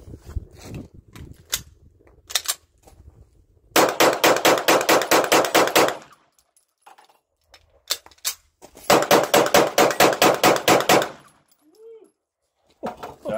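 A Canik TP9SA Mod2 pistol fired in two rapid strings of about a dozen sharp, loud shots each, separated by quiet gaps, with a few scattered single shots and brief voices between.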